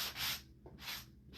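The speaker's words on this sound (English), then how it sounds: "up and down on my board with my sanding block" A sanding block rubbed up and down on a craft board for a sunflower project, two broad scratchy strokes with a short pause between, close and fairly soft.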